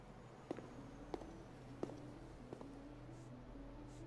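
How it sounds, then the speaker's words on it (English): Soft footsteps in a video game land at an even walking pace, four or five light taps over a low steady hum. "The sound of footsteps stops behind me."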